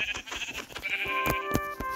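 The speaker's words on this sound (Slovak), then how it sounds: "Je normálna ovca." Sheep bleats from the Minecraft video game, a couple of short bleating calls standing out over a busy background of game music and effects.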